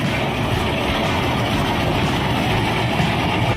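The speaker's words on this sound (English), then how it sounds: "Fowler steam-powered tractor" A Fowler steam-powered traction engine from John Fowler and Company of Leeds runs nearby, making a loud, steady, rumbling mechanical roar with a continuous low churn and no voices.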